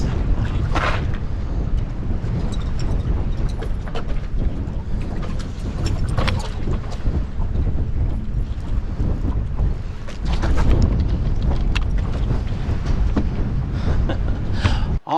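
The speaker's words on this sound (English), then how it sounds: "The wind was ridiculous on this tournament." Strong, gusty wind sweeps across a lake during a fishing tournament, roaring and buffeting steadily and loudly close by, with a stronger surge partway through.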